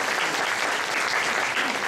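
An audience at an elderly-friendly community sharing event in Hong Kong's Southern District gives sustained applause. The clapping is dense, even and continuous, heard from within the crowd.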